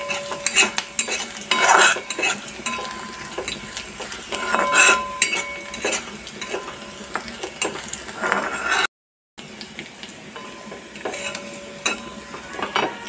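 Whole cumin seeds sputter and crackle in hot oil in a pan while a utensil stirs and scrapes, making busy close sizzling and metallic clinks throughout, with a brief gap near the end.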